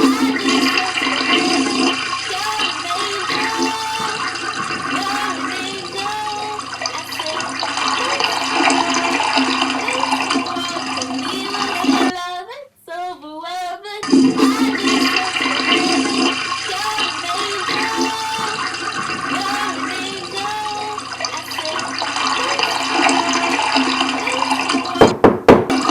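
Steady rushing water pours from a shower, loud and continuous, breaking off briefly midway before resuming at full force.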